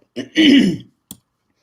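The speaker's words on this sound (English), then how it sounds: "Sorry about the coughing." A single hoarse cough or throat-clearing burst from water gone down the wrong pipe, close and fairly loud, followed by a brief short catch, then silence.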